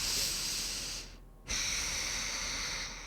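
Close, airy breathing during a gentle stretching flow class: a long breath out and a brief pause, then a sharp, snorty breath in, with no talk.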